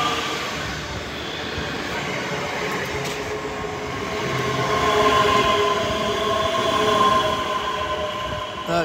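A ScotRail Class 385 electric train, unit 385115, passes through Edinburgh Haymarket station with a steady rumbling roll and clatter of wheels, rising slightly louder midway, plus faint squeals and distant background noise.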